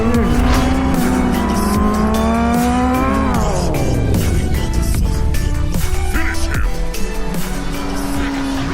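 Sport motorcycles, including a Yamaha R6, ride hard along the twisting Tail of the Dragon road, the engine note loud and close, climbing and then dropping through gear changes under steady wind roar.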